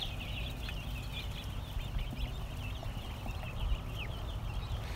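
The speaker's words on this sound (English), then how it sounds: "Problem with letting all these ducks out onto the lawn, it'd be so hard to keep track of them." Small young ducks on a farm lawn chatter in a steady stream of soft high peeps and cheeps over a low rumbling background.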